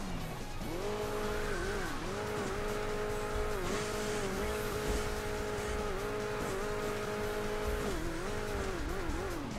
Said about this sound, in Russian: Ну что ты там забуксовал